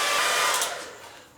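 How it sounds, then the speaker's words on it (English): A hair dryer blows in a brief, loud rush of air that holds for about half a second, then tapers quickly away. "I've got the hair dryer standing by ready to blow into action."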